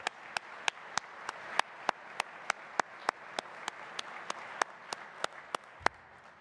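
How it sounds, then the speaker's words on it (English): At a track and field coaches' convention opening session, a single set of hands claps in a steady, evenly spaced rhythm, crisp and fairly close, over a faint wash of distant audience applause. "Let's have another round of applause for our championship coaching staff."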